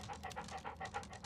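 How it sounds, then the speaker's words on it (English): A dog pants rapidly and rhythmically in the Sherlock Holmes Crimes and Punishments video game, with quick, close, breathy puffs repeating steadily at moderate volume and no talking. "we are the dog. We are Toby."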